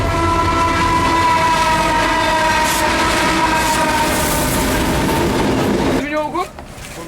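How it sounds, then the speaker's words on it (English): A Mauritanian freight train arriving, its loud sustained horn blaring for several seconds before stopping, followed by a short burst of voices. "the train's coming."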